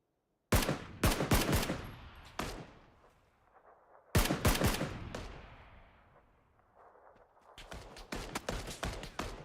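SKS rifle gunfire in PUBG, sharp shots arriving in quick clusters of several each, loud and close, with decaying echoes between volleys and a final rapid string of shots.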